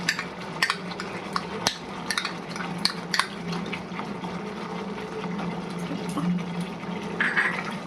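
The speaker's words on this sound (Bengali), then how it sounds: "টক দইটা দিয়ে ভালো করে এখন মেশাতে হবে, যাতে লাম্প না হয়ে যায়।" Sour yogurt being stirred into frying fish masala for a katla rezala, a steady low sizzle with soft scraping spoon strokes and occasional clicks against the pan, close and moderately quiet.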